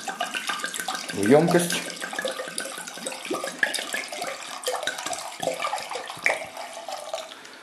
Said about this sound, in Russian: Итак, вино открыто. Переливаем вино